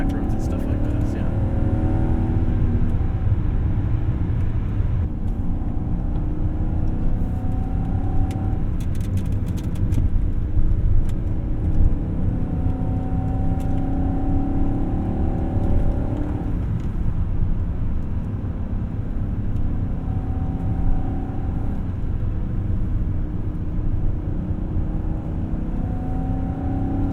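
A 1998 BMW 740iL automatic pulls along a side road in second gear, its steady engine drone and road noise running continuously under conversation inside the cabin.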